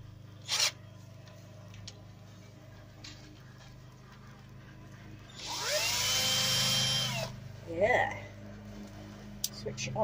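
A power drill fitted with an auger, set to drill mode at speed two, whirs up for about two seconds with a rising then steady whine, followed by a short squeal; faint background noise otherwise.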